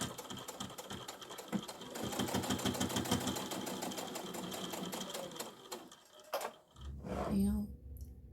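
Sewing machine stitching along an apron strap, a fast steady mechanical rattle running for several seconds, then slowing and stopping, with handling noise and a faint voice afterward.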